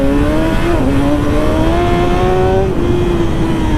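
A motorcycle engine roars loudly and close, holding a steady high rev with a couple of quick pitch shifts as the throttle changes, continuous throughout with no talking.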